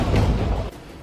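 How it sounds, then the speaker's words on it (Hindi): A deep, muffled boom rumbles during an attack in Gaza, a single heavy blast that fades quickly after about half a second. "वीडियो में एक के बाद एक धमाके हो रहे हैं"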